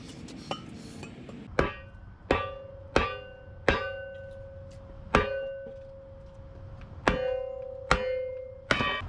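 Black locust wood struck down onto a Kindling Cracker cast-iron firewood splitter, producing about nine loud, ringing metallic clangs at irregular intervals, each tone hanging and decaying before the next blow.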